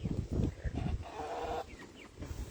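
Backyard chickens cluck and murmur faintly nearby, soft irregular calls over quiet outdoor ambience.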